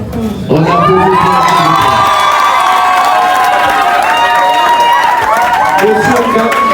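Wedding guests at a civil ceremony in a town hall break into loud, close cheering and shouting, with whoops and scattered clapping that keep going for several seconds.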